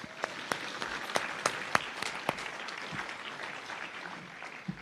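Applause from an awards ceremony audience, scattered sharp claps at first, then a fuller spread of clapping that thins out toward the end.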